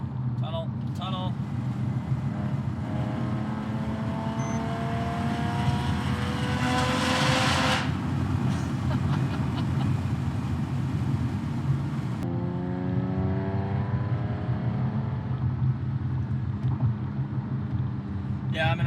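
A Porsche 997.1 Carrera S with race headers and no catalytic converters booms through a tunnel, its exhaust rising in two revving sweeps over a constant drone while people talk throughout.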